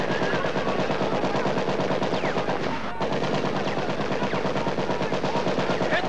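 Continuous, dense gunfire from a farmstead sounds as sustained rapid machine-gun bursts, loud and unbroken except for a brief dip midway.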